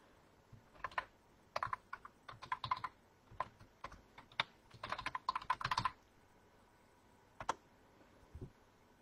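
Keystrokes on a computer keyboard in irregular bursts of quick taps with pauses between, close and fairly quiet, no voices.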